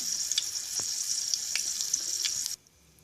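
Oregano sizzles steadily in hot frying oil, a dense crackle with a few sharper pops, running loud and close for about two and a half seconds before cutting off abruptly.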